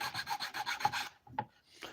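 Hand sanding on a small wood carving gives a quick run of rhythmic rasping strokes, close and fairly quiet, then a pause and a couple of separate scrapes.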